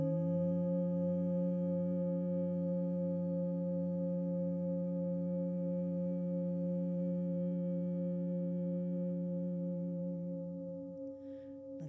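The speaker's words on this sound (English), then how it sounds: "Exhale with a hum." A steady, sustained hum from people exhaling during a guided breathing exercise, one even drone holding for about ten seconds before tapering off near the end.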